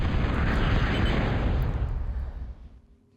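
Bombs go off in a Total Annihilation real-time strategy match on the map The Pass: one loud, rumbling blast that holds for about two seconds, then fades away with no talk over it.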